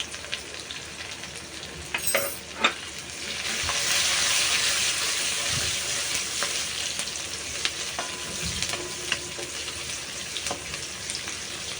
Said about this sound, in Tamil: வெங்காயம் சிவக்க ஆரம்பிச்சிருச்சு.